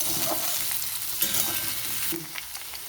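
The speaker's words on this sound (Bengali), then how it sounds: "ঢাকা দিয়ে একটু আলুগুলোকে ভেজে নিই।" Potatoes fry in a covered pan, a steady close sizzle with faint scattered crackles and a few soft knocks, no voices.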